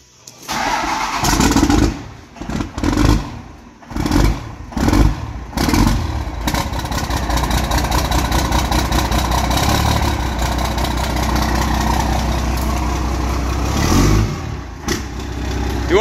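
A 12 valve Cummins diesel in a little red dually truck cranks, sputters through several bursts, then catches and settles into a loud, steady rumbling idle with a couple of revs near the end.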